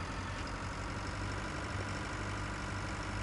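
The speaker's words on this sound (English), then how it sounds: "We have this four-wheel drive 610 that's been added into the game as well. Absolute beast of a tractor." A Versatile 610 four-wheel drive tractor in Pure Farming 2018 idles with a steady, dense low rumble at an even level throughout, with no talking.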